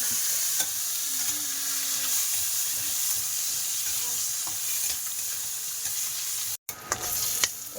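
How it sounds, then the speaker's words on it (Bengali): Crabs seasoned with salt and turmeric frying in oil in a pan, a steady close sizzle with light stirring, one brief dropout near the end. "দেখো কাঁকড়াটা ভেজেছি"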